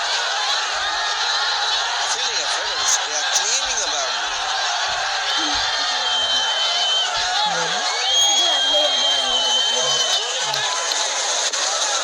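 Cricket stadium crowd murmuring and cheering steadily throughout, a continuous wash of distant voices under close commentary from a match between Nepal and the Maldives.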